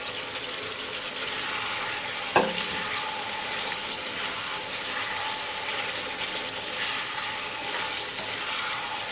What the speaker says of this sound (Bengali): এবার আমি দিয়ে দেব পটলটা, যে পটলটা আমি ভেজে রেখেছি সেটা দিয়ে দেব।